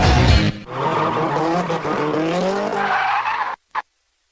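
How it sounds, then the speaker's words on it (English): Custom cars deliberately oversteered through sharp turns, tires squealing loudly in a long continuous skid as they slide and spin, close and dominant before cutting off abruptly. "cars are deliberately oversteered to slide and spin through a series of sharp turns"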